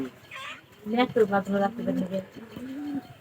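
Pigeons cooing close by in a home loft, a few soft throaty coos rising and falling over roughly three seconds.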